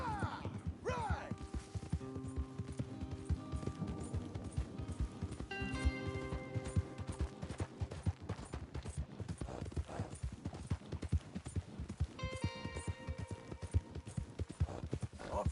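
Horses' hooves clip-clop in a quick, continuous rhythm throughout, close and fairly loud, with occasional harness jingles and snorts mixed in.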